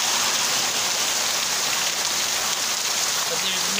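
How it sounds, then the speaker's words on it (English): Heavy rain pours down steadily at night in South Florida, a dense, unbroken hiss of drops drumming on surfaces close by. "there's nothing like the beautiful sound of rain."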